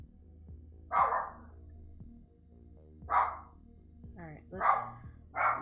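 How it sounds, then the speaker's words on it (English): A dog barking indoors: four or five loud, separate barks spaced about a second or two apart, heard over a quiet background of retro game music. "My dog is being rambunctious."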